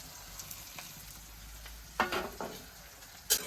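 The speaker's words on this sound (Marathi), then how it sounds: "रवा पहिले भाजत छान हो रवा भाजून घ्यायचा" Semolina (rava) roasting in a pan: a faint dry sizzle with a couple of brief scraping strokes of a spoon, one stronger stir near the middle and a sharp tap at the end.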